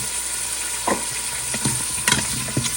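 Potatoes sautéing in a pan for corned beef nilaga sizzle with a steady close hiss, broken by several soft scraping and clacking stirs from a utensil.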